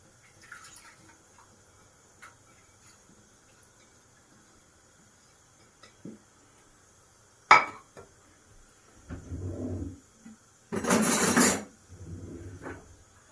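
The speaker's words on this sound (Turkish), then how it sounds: "küçük küçük doğradığım tavuklarımı atıyorum." Faint kitchen clinks give way to a loud burst of sizzling as chopped chicken drops into a hot pot for chicken soup, then a softer sizzle continues.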